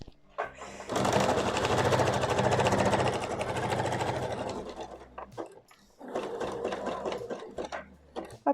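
A sewing machine stitching a pleated skirt, running in a fast, loud, steady mechanical whir for about four seconds, pausing briefly, then running again in a second burst, with small clicks between.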